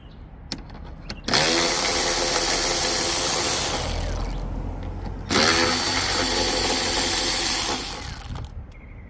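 Loosening 10 millimeter bolts on a Hyundai Elantra headlight assembly: two long, loud whirring bursts from a powered tool, each a few seconds long, with a few light clicks between and around them.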